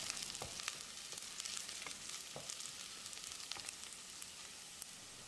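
Moong dal being stirred and fried with onions in a pan, giving a steady soft sizzle with light scraping clicks from stirring, fairly quiet and continuous without talk.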